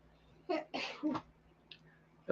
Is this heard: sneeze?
yes